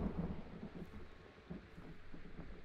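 A low, rolling rumble of thunder after a lightning strike in the dark world of Hunt: Showdown, muffled and distant with faint rain hiss beneath, swelling and fading in a few slow surges.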